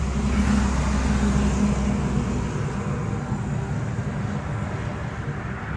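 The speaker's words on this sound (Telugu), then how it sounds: "ఫోర్త్ గేర్లో వెళ్తున్నాం." Vehicle running on water fuel technology cruising in fourth gear over a flyover, a steady, loud engine and road drone with low rumble that eases off slightly toward the end, no throttle applied.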